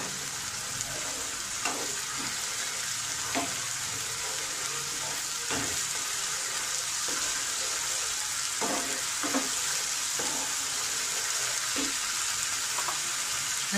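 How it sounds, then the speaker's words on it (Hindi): Spices fry in a pan for kofta gravy, giving a steady, close sizzle throughout, broken by occasional sharp clicks and scrapes from stirring. "चलो इसे हमें अच्छे से भून लेना है पहले।"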